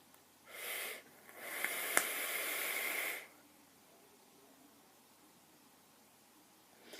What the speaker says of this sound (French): Il fait une vapeur magnifique,